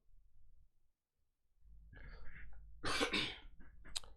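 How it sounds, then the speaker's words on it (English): A short burst of coughing, a few rough throaty hacks close up, after a moment of near silence. "Sorry for that entertaining cough."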